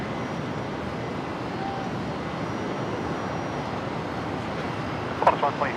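An Air New Zealand Airbus A321neo arriving from Auckland touches down on runway 19 Left at Brisbane Airport, a broad steady distant jet roar, with a brief knock near the end and a person talking over it.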